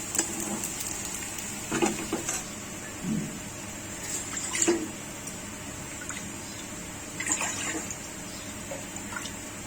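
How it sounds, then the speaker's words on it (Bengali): Water is poured into a cooking pot, eight cups measured for four cups of rice, making a steady running splash with several louder gushes as each cup goes in, close by. "এরপর আমি ডেক্সিতে জল দিয়ে দেবো।"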